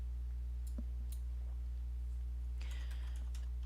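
A computer keyboard typed during a Mathematica session, a few sparse key taps and then a short quick burst of typing near the end, against a steady low electrical hum, with no talk.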